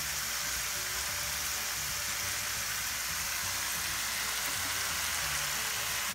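A pan sautés on the stove while lumpia cook alongside, giving a continuous, even, fairly quiet frying hiss with no breaks or voices.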